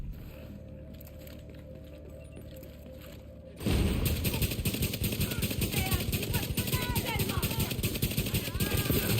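Rifle gunfire in The Division 2, loud and continuous from about 3.7 seconds onward after a quieter opening, a dense rattle of rapid shots layered with game effects and background voice.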